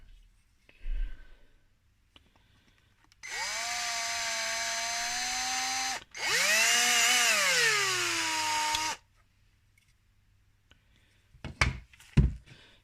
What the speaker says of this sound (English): it might be worth running a 3mm drill through that hole there.